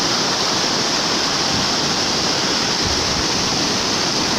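Blue Waterfall at the Wli waterfalls roars as a loud, steady, close rush of falling water with no break and no voices.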